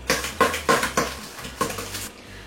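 A utensil clacks rhythmically against a bowl while cookie batter with egg and vanilla is mixed, giving a quick run of evenly spaced, fairly loud knocks.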